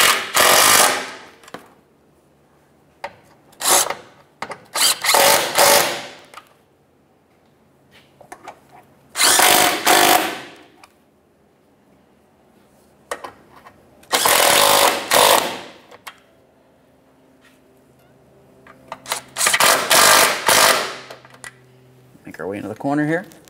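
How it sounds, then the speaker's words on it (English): A power tool runs down 10 mm bolts on the cooling fan assembly of a 1994–1997 Honda Accord 2.2L, in several loud, close buzzing bursts separated by pauses, with rattling impacts and a short whir at the end. "Now we can snug up those 10 millimeter headed bolts."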